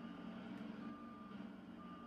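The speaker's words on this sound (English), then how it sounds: "It has its own beeper. The beeping, reversing the beeping thing." Reversing beeper on a telehandler, a steady run of electronic beeps repeating close by over a low engine rumble, with no talk.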